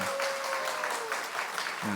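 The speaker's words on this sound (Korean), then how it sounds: "장학금 갖고 오셨는데 우리 좀 박수로 감사를 표하겠습니다." Steady applause from a seated chapel audience at a university worship service, thanking a visiting donor, fills the space evenly for about two seconds before tapering at the end.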